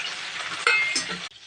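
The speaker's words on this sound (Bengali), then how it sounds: "ওই তেলে আবার ভেন্ডিটা ভেজে নেব।" Okra frying in hot oil in a pan, a steady bright crackling sizzle with a brief louder burst partway through, then dropping quieter near the end.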